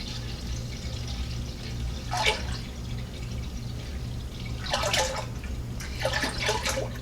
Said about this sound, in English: all you got to do is pour in a gallon of your fresh apple cider